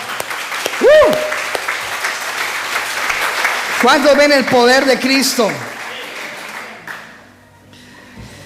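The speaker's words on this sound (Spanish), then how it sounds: "Denle un aplauso al Señor." A church congregation applauds in praise, the clapping running underneath a preacher's loud amplified speech in Spanish, fading toward the end.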